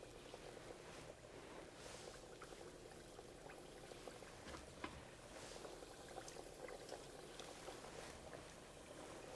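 Boortsog, Mongolian fried pastries, frying in hot oil, giving a continuous faint bubbling sizzle with scattered small pops and crackles, steady and unbroken throughout.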